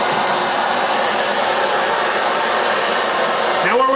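An MSR Dragonfly camping stove fitted with a quiet cap burns with an even, steady roar that holds unbroken throughout, then a short rising tone near the end.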